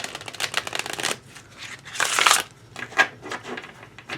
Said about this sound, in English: Bridge shuffling.